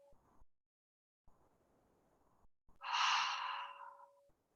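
A single deep breath, audible close up as a long breathy exhale of about a second and a half, comes after a few quiet shuffling noises during a guided stretching session.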